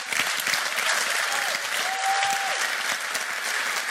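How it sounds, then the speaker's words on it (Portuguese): Audience applause filling a hall at a talk or presentation, a dense steady clapping from a large crowd held at even loudness throughout, with no voices over it. "Uma grande salva de palmas para o Aaron."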